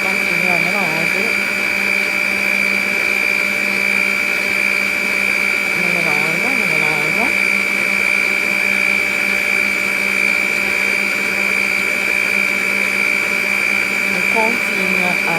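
Electric mixer blending a tiramisu mixture, a steady loud motor whine with a constant high tone, running throughout while a person talks over it.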